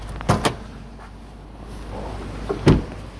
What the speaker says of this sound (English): All right, let me pop the hood for you.